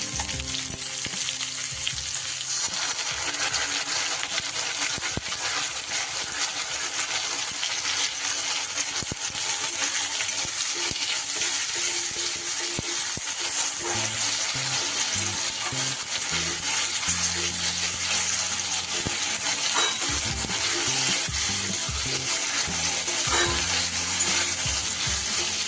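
Paste of sauce hits a hot pan of paneer for chili paneer, setting off a loud, steady frying sizzle with bursts of stirring and scraping that run the whole way through, no voices.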